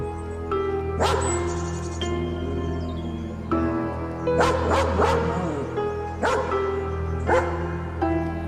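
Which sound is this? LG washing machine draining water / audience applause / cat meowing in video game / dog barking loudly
dog barking loudly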